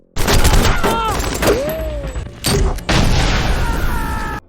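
Rapid bursts of gunfire and a mounted machine gun in a film shootout between gangsters and farmers in Mexicali, loud and close, broken by sharp impacts and whooshing effects.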